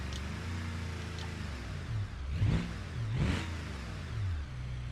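A car engine revs repeatedly on a drag pass in BeamNG, a mid-pitched motor rising and falling through several surges of throttle.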